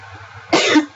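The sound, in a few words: coughing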